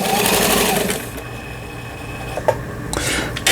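A RICCAR Sunny household sewing machine runs loud and fast for about a second with a dense mechanical whir, then stops, leaving faint clicks and small handling knocks near the end.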